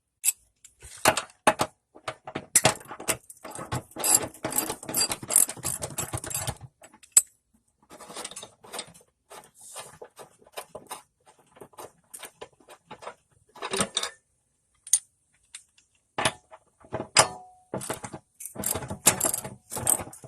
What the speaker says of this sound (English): I can move over to my actual ratchet.